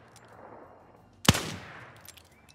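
A single loud revolver shot rings out in the Wild West Online video game, a sharp close blast with a brief fading tail over quiet background.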